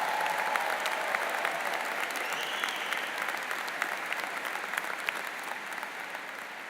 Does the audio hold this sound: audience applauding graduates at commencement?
yes